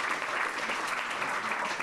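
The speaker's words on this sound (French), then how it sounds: "alors on peut applaudir." Brief burst of audience applause at a French cultural debate, a dense, even wash of clapping lasting under two seconds.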